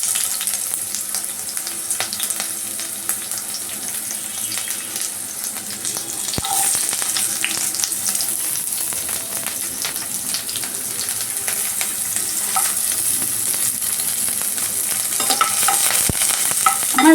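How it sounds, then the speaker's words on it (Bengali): Sliced onions fry in hot oil in a small home kitchen while making Bihari-style baingan bharta, producing a loud, continuous hiss and crackle with occasional stirring clicks. "আমি প্রথমে তেলটা গরম হয়ে গেছে অলরেডি, আমি এখানে পেঁয়াজটা দিয়ে দিলাম"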